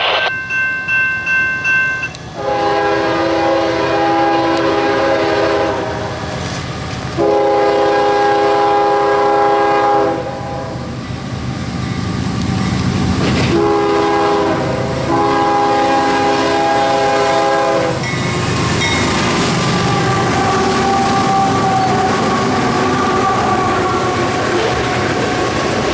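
A train horn blasts in several long, loud chords at a Lakeland, Florida grade crossing, broken into separate sounds, followed by the roar and rattle of the train rolling past close by.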